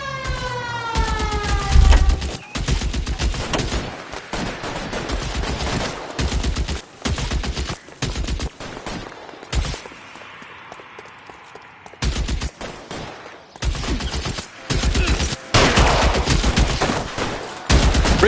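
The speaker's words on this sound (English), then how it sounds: "Open fire!" Rapid bursts of gunfire crack through a shootout in L.A. Noire, dense volleys repeating loudly with brief pauses between, a siren wail rising near the start.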